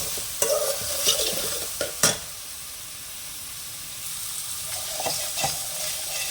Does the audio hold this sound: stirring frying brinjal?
yes